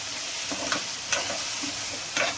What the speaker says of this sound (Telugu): ఇప్పుడు ఇందులో కరివేపాకు కొత్తిమీర వేసుకుందాం వీటిని ఎక్కువగా వేగనివ్వకూడదండి లైట్గా వేగనిద్దామండి